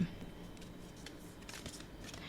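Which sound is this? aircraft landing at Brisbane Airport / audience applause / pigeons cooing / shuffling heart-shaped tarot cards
shuffling heart-shaped tarot cards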